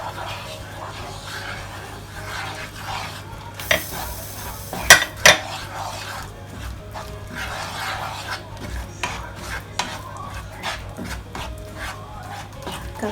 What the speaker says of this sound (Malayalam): ഇട്ട് കൊടുക്കുന്ന സമയത്ത് തന്നെ ഇളക്കിക്കൊണ്ടിരിക്കണം, ഇല്ലെങ്കിൽ കട്ട പിടിച്ചു പോവും.